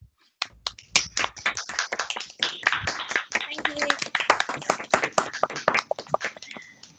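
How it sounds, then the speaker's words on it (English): Scattered, uneven clapping from several people, building gradually into a modest round of applause with sharp individual claps and some murmuring voices. "give them a round of applause"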